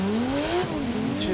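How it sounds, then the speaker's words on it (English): A Dodge Charger engine bounces off its rev limiter under hard acceleration, the loud raw howl climbing then stuttering and dropping with a faint tire squeal, close and alone without talk. "Oh, he's on the rev limiter."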